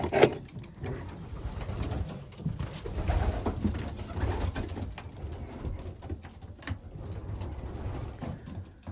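Young pigeons cooing steadily in an enclosed loft, a low continuous burble of several birds close by.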